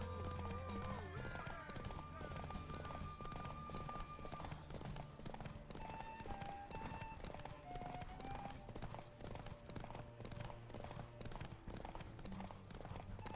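The horse Roach in The Witcher 3 gallops with quick rhythmic hoof clops, joined by a whinny, under game music and a speaking voice, fairly quiet overall.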